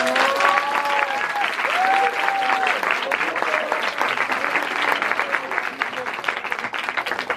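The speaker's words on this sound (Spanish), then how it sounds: "Un aplauso para los profes, por favor" Audience applauding the professors at a debate on schizophrenia, steady dense clapping over roughly seven seconds with voices and cheering mixed in.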